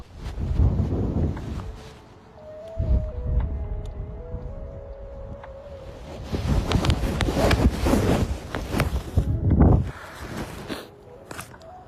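Outdoor wind buffets the microphone in loud, rumbling gusts that rise and fall over several seconds, with a faint steady tone humming in the background.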